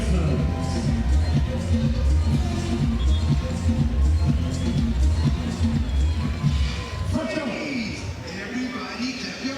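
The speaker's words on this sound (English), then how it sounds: "Everybody clap your hands" A beach volleyball crowd at the Fort Lauderdale Major final claps and cheers steadily, with rhythmic clapping filling the space and an announcer's amplified voice over it.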